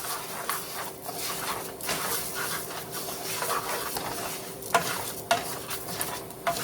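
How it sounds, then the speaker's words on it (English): Rice toasting in hot oil over medium-high heat for Spanish rice, with a constant close sizzle and the scrape and patter of continuous stirring, plus a few sharper knocks toward the end. "let's put your rice in the oil. And what you're going to do is you're going to keep stirring it until it's like a light brown"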